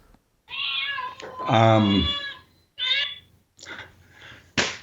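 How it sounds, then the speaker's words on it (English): A phone ringtone of recorded cat meows plays several times in short bursts, fairly close and loud, with a voice speaking around them. "I've got a cat ringtone on my phone. It just started ringing."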